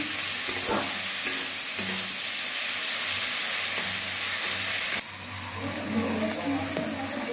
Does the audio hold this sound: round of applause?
no